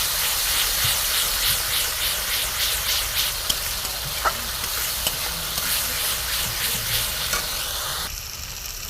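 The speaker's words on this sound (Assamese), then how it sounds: "এতিয়া ধুনীয়াকৈ মই সৰিয়হখিনি ভুনিম" Mustard paste fries with spices in a pan, a steady close sizzle with soft stirring scrapes and a faint clink, easing slightly near the end, with no voices.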